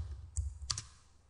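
A brief cluster of computer keyboard keystrokes while writing Oracle SQL function code: a few close, light clicks over a low hum, ending in quiet.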